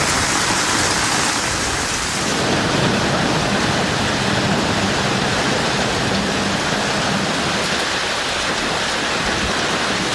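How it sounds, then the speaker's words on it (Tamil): Steady, dense rain pours down alone in a strong evening downpour with wind in Ranipet, Tamil Nadu, a constant loud hiss and patter of drops on surfaces with no voices. "மிதமான மழை கொட்டியது"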